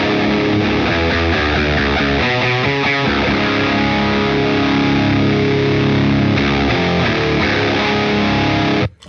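An electric guitar plays through a Revival overdrive pedal, loud, distorted and sustained, with strummed chords and riffs that ring without a break before cutting off abruptly at the end.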